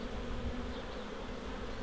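Dense, steady buzzing of a wild honeybee swarm being gathered into a box, close and continuous with no pauses, filling the whole short stretch without voices.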